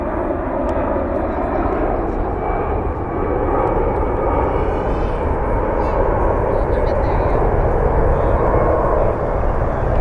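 A Boeing 767 in Evo Blue livery departs Washington Dulles in the evening, a steady broad engine roar holding at constant strength throughout, with a voice speaking over it.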